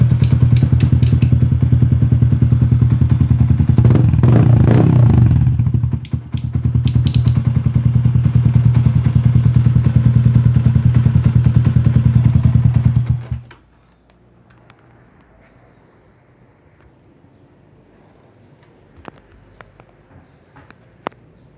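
Yamaha Sniper motorcycle with High Buds exhaust idling close by, a loud steady engine rumble that dips briefly around the middle before cutting off abruptly, followed by faint clicks and handling noises.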